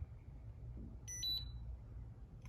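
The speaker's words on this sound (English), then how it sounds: "And you'll get a confirmation beep." A short pair of high electronic beeps from a Schlage Encode BE489 smart door lock powering up sounds around the middle of the clip over a low steady hum, fairly faint and brief.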